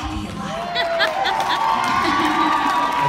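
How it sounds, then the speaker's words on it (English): An audience cheers and shouts with some clapping, a loud lively crowd roar that swells after the first second and holds steady, with whoops and voices rising above it. "You guys are clapping and encouraging me."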